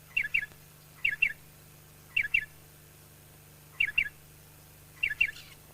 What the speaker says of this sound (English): The striated pardalote has a loud and penetrating call.